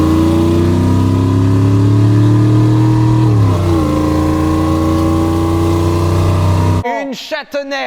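A car's 5-litre V8 engine roars loudly and continuously, its pitch dipping and shifting midway as the revs change, before cutting off abruptly into a short burst of other sound at the end.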